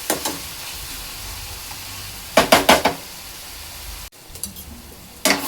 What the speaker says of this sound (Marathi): पेस्ट आणि कांदा 3 ते 4 मिनिटं चांगला परतून घ्यायचा आहे